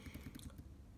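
Quick typing on the Gigabyte P15F V3 laptop keyboard, a rapid run of soft, close keystroke clicks over about half a second, then fading to quiet.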